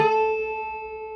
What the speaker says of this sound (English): A very common one is the unison bend.